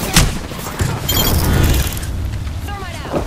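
A frag grenade in the shooter game Apex Legends bursts with a loud, rumbling boom that carries on for over a second, alongside gunfire cracks and short game voice lines.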